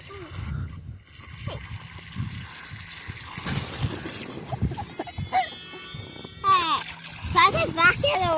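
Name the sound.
RC boat splashing back into the lake water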